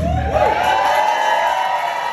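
A live audience cheers and whoops for a performing rapper, a dense continuous roar of crowd noise with scattered yells, loud and steady throughout.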